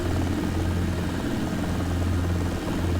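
Helicopter rotor and engine drone from a desktop flight simulator game during pedal turn training, a continuous loud steady hum with a strong low tone, no voices over it.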